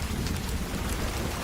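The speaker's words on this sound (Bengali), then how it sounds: "ঠিক তখনই আকাশ ভেঙে বৃষ্টি পড়তে লাগলো।" Heavy rain pours down in a dense, continuous roar with a low rumble underneath, loud and close, as a sound effect in a rural Bengali horror tale set on a monsoon flood night.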